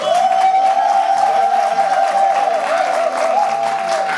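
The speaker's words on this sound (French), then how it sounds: "La Champions Slam Pause est représentée par tous les candidats qui vont faire un tonnerre d'applaudissements" A crowd applauds steadily for slam poetry contest candidates at a live Togolese event, the clapping dense and sustained throughout, with a steady tone running beneath it.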